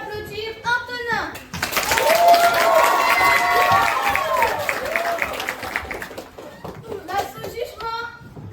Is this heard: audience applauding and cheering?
yes